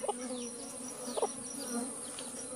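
Honey bees buzzing steadily around a newly hatched yellow queen bee at a mating hive, a close continuous drone with a few louder passes, no talking.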